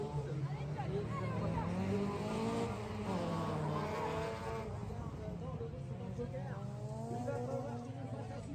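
Rally cars, a Renault Clio and a Citroën Saxo, race on a dirt circuit, their engines rising and falling in pitch at moderate distance while a commentator talks over them continuously.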